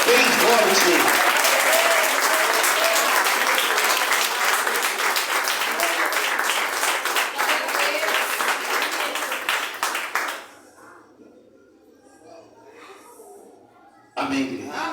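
A church congregation applauds loudly and rapidly for about ten seconds while a voice calls out over it, then the clapping dies away into quieter murmuring and a brief burst of sound at the end.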